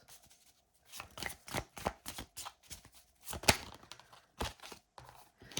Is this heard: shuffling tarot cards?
yes